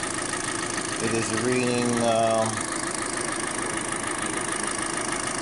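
A Kia Soul's engine idles with a steady low rumble throughout, while a voice speaks briefly partway through.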